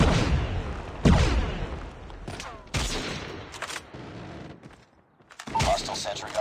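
Sentry gun fire in Call of Duty Mobile, loud bursts of automatic gunfire in several clusters with brief pauses, one near-silent gap before a final burst, mixed with game effects.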